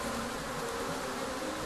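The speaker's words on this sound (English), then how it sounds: "Segahun and his fellow beekeepers hike the steep hills here to their enclosure of beehives" Bees swarm around modern beehive boxes on a hillside apiary in Tigray, Ethiopia, a dense continuous close buzz with no pauses.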